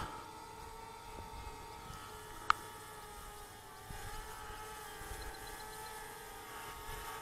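Small DJI Spark drone descending fast on low battery, a faint, steady, high-pitched whine of tiny propellers from a distance, with one brief click and no speech.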